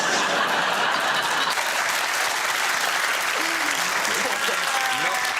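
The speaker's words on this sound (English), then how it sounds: "Not everyone applauding" Studio audience applause on the QI comedy panel show, a dense, loud, continuous roar of clapping from a large crowd that holds steady throughout, with faint voices mixed in.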